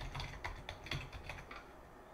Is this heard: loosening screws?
no